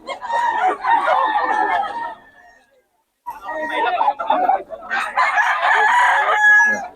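Roosters crowing among chickens at a market sale, two loud crowing calls separated by a brief gap, mixed with clucking and people chattering nearby.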